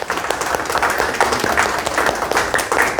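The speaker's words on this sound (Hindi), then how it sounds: "तो मैं जोरदार तालियों से मिस्टर रश्मि रंजन जी का स्वागत" Audience applause at a one-day corporate workshop on change management, a steady wash of clapping from a seated crowd, fairly loud and close, with no talk over it.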